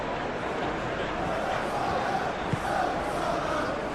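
A stadium crowd in the PES 2021 eFootball video game keeps up a steady cheering roar during a Tottenham Hotspur vs Sydney FC friendly, with no break in the noise.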